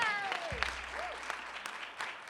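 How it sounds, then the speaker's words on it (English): Scattered clapping from a symposium crowd, fairly distant and thinning out, with a brief bit of sound from a microphone or voice near the start. "Give him a round of applause."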